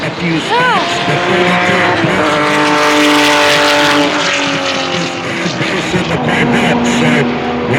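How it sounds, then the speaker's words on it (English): Vintage race cars, including a Corvette and a Mustang, roar loudly at a racetrack, with rising and falling engine pitch as cars accelerate and pass, plus a brief squeal, all continuous and close. "But the rumble of that Corvette's getting me."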